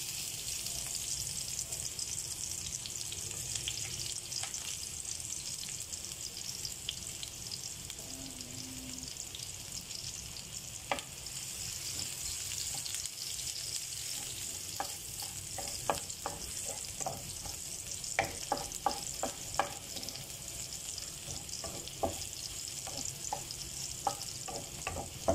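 Garlic frying in a pan for char kway teow, a steady loud sizzle running throughout with scattered stirring scrapes and taps growing busier toward the end; no talking.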